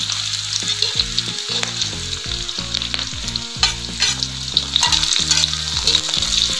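Chilies frying in a pan for tahu bejek, a loud, close, continuous sizzle with scraping stir strokes scattered throughout, no voices.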